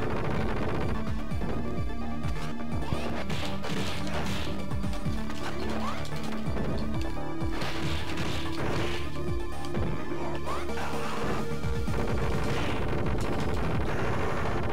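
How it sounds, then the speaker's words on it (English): Video-game machine gun fire rattles in dense, continuous bursts mixed with heavy crashing impacts, loud and busy from start to finish with no clear talk. "Don't get in the way of the machine gun."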